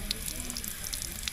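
Tap water running through a small filter attached backwards to the faucet to flush it, a steady hissing spray with faint spatters, fairly quiet and alone.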